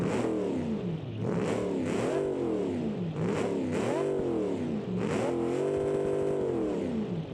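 Supercharged Barracuda car engine in the game Automation revving loudly and repeatedly, a beefy rising and falling roar in several bursts, with a sustained high-rev hold near the end.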